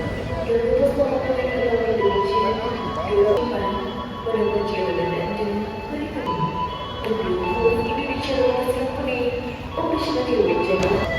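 Trains at Pasar Senen station in Jakarta, a continuous rumble of rail noise with occasional clanks across the platform, mixed with nearby voices.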